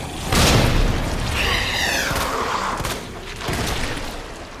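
Grenade explosions in Resident Evil 2 Remake go off as a loud, heavy boom with a rumbling crash, followed by sustained dense blasting and debris noise that stays loud throughout.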